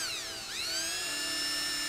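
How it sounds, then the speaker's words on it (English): An electric drill with a 1/16 inch bit bores a pilot hole into an aluminum mounting channel, giving a close, steady high-pitched whine that dips briefly then settles, with no talking. "So I switched back to the 1/16 inch drill bit for actually drilling the pilot hole in here"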